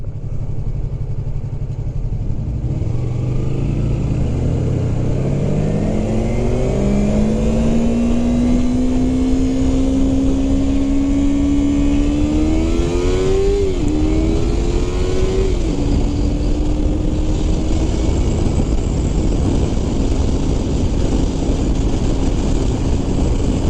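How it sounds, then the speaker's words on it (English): A Corvette accelerates nearby, its engine note climbing steadily in pitch, dipping at a gear change and rising again, all under constant wind roar from a moving motorcycle on a Texas road. "It's a nice Corvette."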